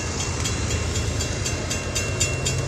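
A train rolls past close by, a loud continuous rumble with regular clicking of wheels over rail joints, no talking.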